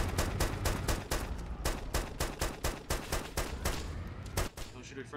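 Rapid, loud video game gunfire from a teammate shooting just overhead, a fast string of sharp shots in steady bursts, close and dominant.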